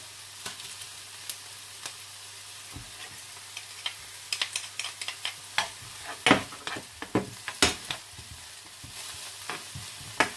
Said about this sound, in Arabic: غادي نحرك. ما غاديش نتسنى عليها حتى تسخن، غادي نضيف عليها الثوم